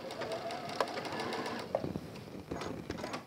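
A domestic sewing machine stitches fabric in quick bursts, its needle ticking rapidly and stopping and starting, close and fairly quiet.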